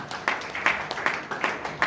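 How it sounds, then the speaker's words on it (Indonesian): Congregation clapping in a church worship service, a quick, steady rhythmic beat of many hands repeating in even bursts, moderately loud and close. "Tepuk tangan buat Tuhan."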